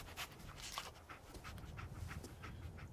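Dogmeat, the dog companion in the Fallout 4 video game, pants in quick rhythmic breaths with snuffly sniffs throughout, fairly quiet but steady over low background hum.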